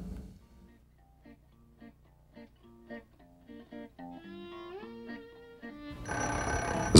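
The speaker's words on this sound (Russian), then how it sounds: "Звонит телефон." A telephone rings in a film scene: a series of short, repeated tonal rings that grow more insistent and end in a louder burst of noise.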